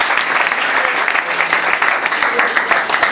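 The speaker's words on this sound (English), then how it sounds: "Can you clap hands for this?" An audience at a competition event claps steadily and loudly, a dense wash of many hands close and continuous, with a few voices faintly mixed in.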